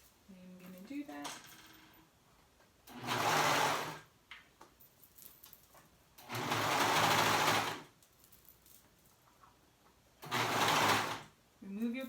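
Three loud bursts of a sewing machine stitching swimsuit fabric, each running a second or two with pauses between, and a voice talking in the quieter gaps.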